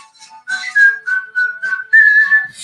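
A person whistles the cheerful Snow White tune, a bright clear melody of short and held notes, close and alone with no talking.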